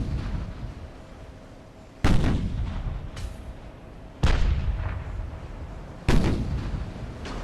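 Battleship primary guns firing in the naval video game Ultimate Admiral: Dreadnoughts, three loud booming salvos about two seconds apart, each with a sharp onset and a long rumbling decay over steady ambient sea and engine noise.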